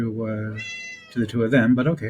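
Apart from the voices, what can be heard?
cat meowing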